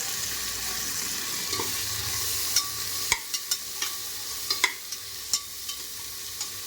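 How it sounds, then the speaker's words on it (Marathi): Tomatoes sauté in a pan with turmeric, a steady low sizzle broken by a string of sharp taps and scrapes from a stirring spoon against the pan, close and without speech. "टोमॅटोसुद्धा छान परतवून घेऊयात आणि नंतर आपण मसाला ॲड करणार आहोत हळद घालूया"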